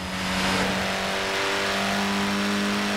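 A Mini Cooper S engine in the racing game Forza Horizon 4, the period model with twin carburettors, revs steadily and loud up close, its droning harmonic tone rising slightly and holding for about three seconds with no one talking.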